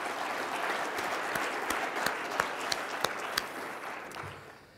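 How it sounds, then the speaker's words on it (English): An audience at an agricultural forum's afternoon session applauds the presenters. The clapping is dense and steady, with a few sharper individual claps standing out. It holds at an even level for several seconds, then fades toward the end without any talking. "So let's give them a round of applause"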